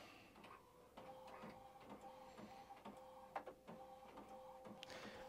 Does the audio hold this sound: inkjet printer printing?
yes